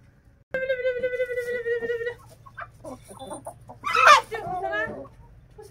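Farm chickens and a rooster cluck and call before feeding, starting with a long held crowing-like note, then a run of short clucks and a loud squawk, fairly close.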